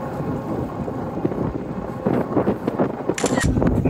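A strong headwind buffets the microphone of a rider on an Engwe Engine Pro e-bike, a rough rushing rumble that rises and falls, with someone talking over it.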